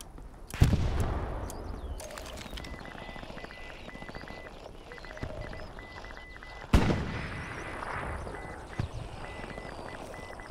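Artillery rounds firing in the World War II shooter Hell Let Loose, two heavy booming shots several seconds apart over continuous distant battlefield gunfire and rumble.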